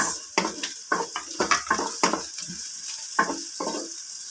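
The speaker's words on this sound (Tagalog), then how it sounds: "Mag-isa-gisa na tayo. Lagay na rin natin yung sibuyas." Garlic and onion being sautéed in a pan for ginisang pancit canton, loud sizzling broken by repeated scraping and stirring strokes of a utensil against the pan, close up and rhythmic.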